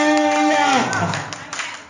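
A church congregation claps along with loud voices singing and calling out in praise, the claps spread through the whole moment.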